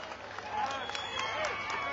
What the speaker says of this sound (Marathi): पुन्हा एकदा त्यांच्यासाठी जोरदार टाळ्या वाजवून स्वागत.